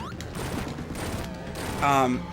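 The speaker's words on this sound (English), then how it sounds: "there's a flame cannon" Flame cannon blasts in the Sonic 3D Blast video game, a dense rattling burst of rapid firing with a bright tonal sweep near the end, mixed with game sounds.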